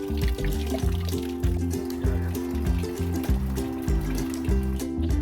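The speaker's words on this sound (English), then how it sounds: "We turned the hose on just a little and set the timer for 5 minutes." Water from a garden hose trickles into a PVC pipe chicken waterer, a steady liquid dribble running under a repeating low mechanical hum throughout.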